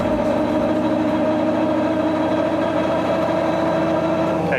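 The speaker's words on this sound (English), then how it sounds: "Okay Tim, I'm just staging it up. I won't be far from running. This thing is going to be exceedingly loud." Nissan Silvia S14 drift car engine idling steadily, a loud continuous low rumble with layered harmonic drone throughout, close and alone with no talk.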